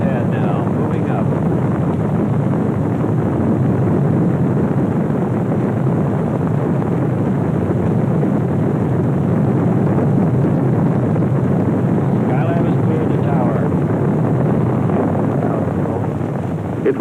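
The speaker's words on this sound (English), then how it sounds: "The Skylab lifting off the pad now, moving up." A Saturn rocket lifts off from Cape Kennedy carrying the unmanned Skylab workshop in May 1973, a steady, heavy broadband roar held throughout with a commentator's voice running over it.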